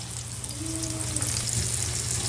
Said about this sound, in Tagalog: So magigisa na tayo. Unahin natin ang bawang. Ilagay natin ang sibuyas.